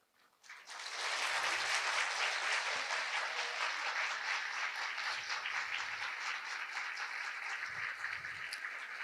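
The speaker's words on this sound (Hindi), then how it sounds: "तालियां, जोरदार तालियां" Sustained loud applause from a crowd at a government appointment-letter distribution ceremony honouring a chief minister, rising quickly and holding steady for about eight seconds.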